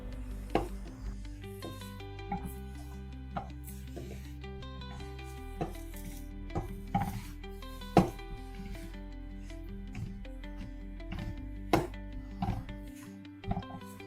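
Dates are squeezed and mashed by hand into a sticky paste for dry fruit laddu, making soft rubbing squelches and occasional light knocks against a bowl over steady background music.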